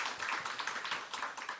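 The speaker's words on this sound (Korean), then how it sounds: "박수로 환영하겠습니다." A church congregation claps to welcome newcomers, a quiet patter of many hands in quick irregular bursts, heard from some distance.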